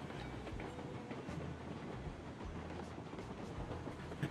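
Long freight train rolling steadily in the video game Railroads Online, a low continuous rumble with faint rhythmic clickety-clack of wagons, no talking.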